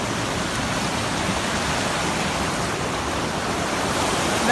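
Floodwater rushes through a normally tiny stream in Haute-Loire after heavy rain and landslides, making a steady, loud broadband roar much like a downpour that holds unbroken for the whole stretch.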